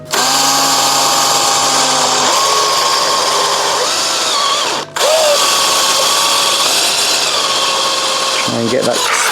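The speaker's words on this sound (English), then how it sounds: "and then back to drilling" Power drill boring into a Fluval aquarium, running steadily at high speed with a continuous whine that briefly cuts out midway before resuming, loud and close throughout.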